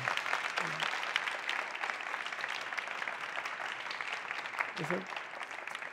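Audience applause at a Brazilian human rights TV program on family and inclusion, steady clapping that fills the whole stretch at moderate level, with brief voice fragments underneath.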